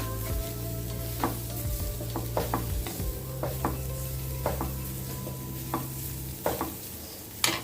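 Grated coconut roasts in a pan on a low flame, giving a soft steady sizzle broken by repeated scraping clicks and taps from a spatula stirring it, with no talking.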